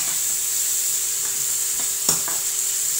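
A masala of onion, ginger, garlic and black pepper fries in a pan with a steady sizzle. A few soft clicks from stirring come through, and a sharper clatter sounds near the end.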